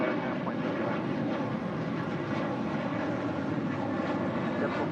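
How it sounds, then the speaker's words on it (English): A United Boeing Dreamliner taxis across runway 25 Right on the south side of LAX, its steady jet engine roar heard from a distance as a continuous broad rumble. "the United Dreamliner now about to cross over 25 right here on the south side"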